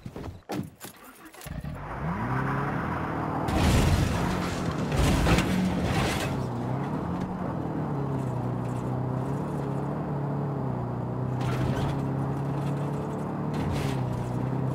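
A car in Far Cry New Dawn: door and handling clatter at the start, then a steady engine drone that swells and settles as the vehicle drives on, with a few louder rattles and bumps along the way.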